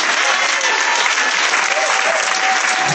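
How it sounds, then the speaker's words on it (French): A church congregation applauds in a sustained, dense burst of clapping that fills the room evenly and loudly throughout. "On peut l'acclamer."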